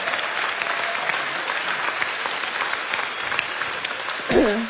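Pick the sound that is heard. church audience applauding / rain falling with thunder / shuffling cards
church audience applauding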